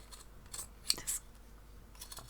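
Scissors trim off the point and shave the edges of stitched crazy patchwork fabric, giving a few quiet, brief snips spaced apart over faint room noise.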